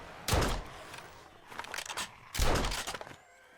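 Gunfire in the zombie-horde co-op game 7 Days To Die, two loud booming shots about two seconds apart with a softer burst between, no speech.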